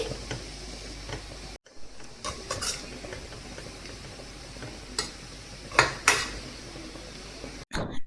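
Ivy gourd fry is stirred in a pan, giving a soft background sizzle with scattered metallic clicks and scrapes of a utensil against the pan and a few brief pauses, no voices.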